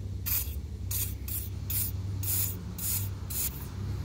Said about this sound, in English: So I'm gonna have to spray some penetrating oil on it.